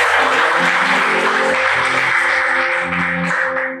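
A room full of students applauds at a university Christmas celebration for a campus student organization, a dense, steady wash of clapping that fades out at the end.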